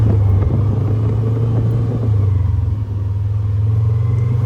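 A John Deere Gator utility vehicle drives along at steady speed, its engine a continuous low rumble close by with slight variations in load, and no talking.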